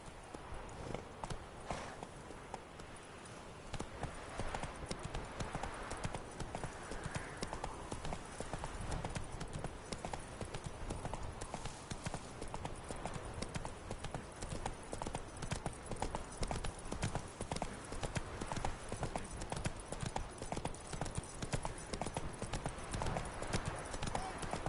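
Roach the horse gallops in The Witcher 3, his hooves clip-clopping in a quick, steady rhythm close by that continues almost without a break, while a voice talks over it at times.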